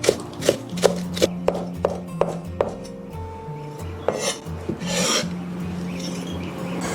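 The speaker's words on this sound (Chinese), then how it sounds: "再切一点小米椒跟葱花" A knife chops small chili peppers and scallions on a board, giving a quick run of sharp, even taps up close. A short pause follows, then a few scattered chops and some scraping.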